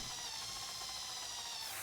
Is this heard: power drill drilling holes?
yes